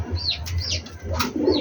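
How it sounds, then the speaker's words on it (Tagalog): A flock of eight pigeons coos softly nearby, several rolling coos over a faint low hum, with a few brief chirps in between. "Walo yung ating kalapati rito eh."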